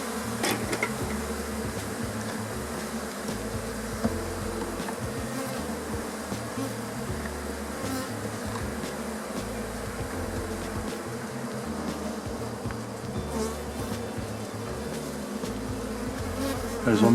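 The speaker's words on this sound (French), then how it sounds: "il va y avoir beaucoup d'abeilles dedans" Honey bees buzz densely around an opened hive, a queenless colony being shaken out to strengthen a swarm, producing a loud, continuous close-up drone with scattered clicks and knocks from handling the frames.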